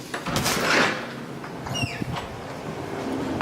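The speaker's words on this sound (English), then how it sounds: "This is the entry here, main door." An apartment's main entry door in a Hayes Valley building opening, a nearby scrape and rattle of the door moving, with a short squeak partway through and a knock at the end.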